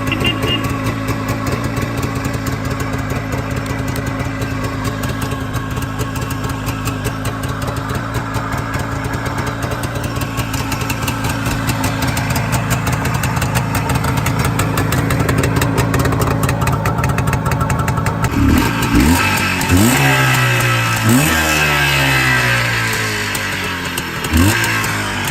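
A Jawa motorcycle engine runs steadily and loud for most of the clip, then near the end the revs swing up and down in several quick rising and falling sweeps, with no talk.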